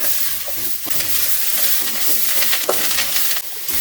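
Chopped tomatoes fry in a pan for a banana leaf kuzhambu, a dense close sizzle with a few stirring scrapes and soft knocks, with no voices.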